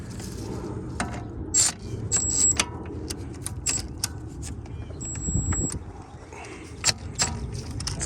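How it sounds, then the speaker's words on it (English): Electric long ratchet wrench on the bottom strut bolt of an Audi/VW front suspension, giving bursts of close whirring and clicking ratchet action between metallic clinks and scrapes of tools. "It's a lot of torque for this electric tool, but it's a long ratchet."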